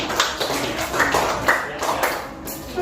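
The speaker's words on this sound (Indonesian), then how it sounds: "Tepuk tangan" Children in a classroom clap together in a patterned, rhythmic burst, the claps landing in evenly spaced groups, moderately loud against light room noise.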